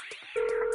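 Phone dialing tones from a voice-dialing system placing a call: a couple of quick short beeps followed by a steady sustained tone, close and clear, with no talking.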